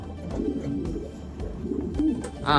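Racing pigeons coo close by in soft, repeated throaty calls, a low rolling murmur throughout with a few brief flutters and bumps near the end.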